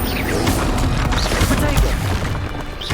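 Fire spell cast in Hogwarts Legacy, giving a loud booming burst with crashing impacts that fill the short stretch, heard alongside a shouted voice.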